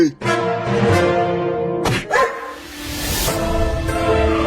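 A cartoon dog barks loudly in several short, sharp, tonal bursts, close up and with little else around it.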